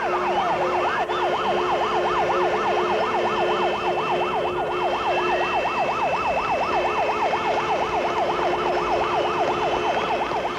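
Loud wailing sirens sounding for a two-hour national strike at noon in Czechoslovakia in 1989, a fast rising-and-falling warble that runs continuously and close for the whole stretch.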